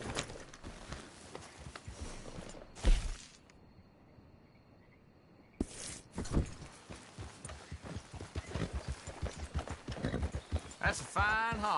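A horse's hooves clop steadily in Red Dead Redemption 2, loud and close, pausing briefly before resuming at a brisk pace, with someone talking over the hoofbeats.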